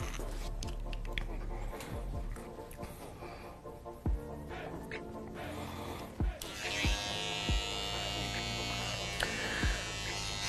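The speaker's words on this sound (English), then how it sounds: "I'm going to use my trimmer, and I'm going to make a horizontal cut." An electric hair trimmer buzzes into life partway through, cutting hair for a women's faux hawk, its steady whir rising over quieter clicks and handling sounds, while someone talks.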